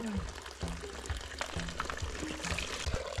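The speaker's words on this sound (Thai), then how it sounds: "ชาวบ้านเนาะมาตักน้ำอันนี้จะเป็นแม่น้ำห้วย" Water is scooped and poured from a cold mountain stream in rural Laos, giving close, splashy, uneven gurgles and trickles for a few seconds.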